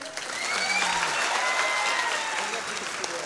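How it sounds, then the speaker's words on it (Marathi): Sustained crowd applause for Prashant fills a student guidance event hall, dense and even, swelling in the first half second and holding strong, with faint voices mixed in. "एकदा जोरदार टाळ्या द्यायच्या प्रशांत भाऊ साठी."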